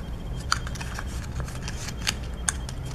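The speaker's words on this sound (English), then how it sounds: "I cut those slits and you can fold them in or out." Scissors snip slits into paper for folded paper shapes: a few crisp, separate cuts over a soft background rustle of handled paper.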